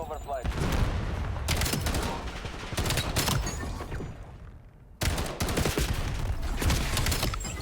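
Loud, dense gunfire bursts in Black Ops 7 multiplayer, fired with an X9 Maverick build, come in sustained volleys separated by brief gaps, with a voice talking over parts of the shooting.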